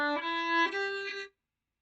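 A fiddle plays a short syncopated phrase with a sixteenth-note figure from the old-time tune Mairi's Wedding, a few bowed notes up close and clear for just over a second, then silence.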